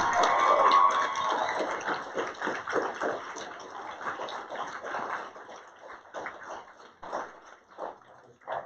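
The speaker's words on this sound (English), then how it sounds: "round of applause" Audience at a nursing graduation ceremony applauding the nursing faculty: dense clapping starts loud and steadily thins and fades over several seconds, a few scattered claps lingering at the end.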